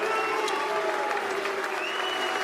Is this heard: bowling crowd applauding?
yes